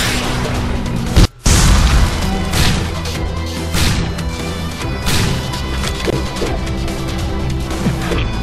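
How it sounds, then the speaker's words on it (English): Missile strike exploding in a zombie survival video game, heavy booming crashes layered over continuous dense game noise with several loud impacts and a brief dropout near the start. "Missile strike inbound."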